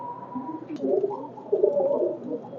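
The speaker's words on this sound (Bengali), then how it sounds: "এগুলো আর কি বয়স কম, ইয়াং কবুতর একদম" Young pigeons from a flying-line flock coo close by in low, rolling phrases, two or three gurgling bouts rising and falling with no one speaking.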